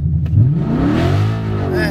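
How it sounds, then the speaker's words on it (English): A 2015 Ford Mustang with a 6R80 transmission, a 6F converter and aftermarket headers revs hard during a brake stall test, the engine note climbing quickly then holding a loud, close drone. "I'm gonna step on it and see where the needle stops and the car starts to go forward."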